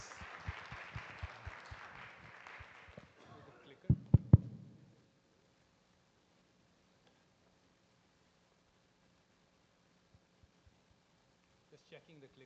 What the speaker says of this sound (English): Claps.